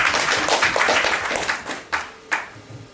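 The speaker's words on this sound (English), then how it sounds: "Give applause to them." Audience applause at a Hindi-English spiritual discourse, a brief burst of clapping from a gathering that fades to scattered claps with two sharp final claps near the end.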